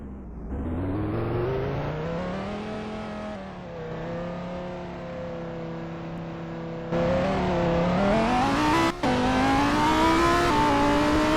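A Lamborghini Huracan engine in a driving simulator game revs hard through rising gears, a loud whining drone climbing in pitch with abrupt shift drops, with no talking over it.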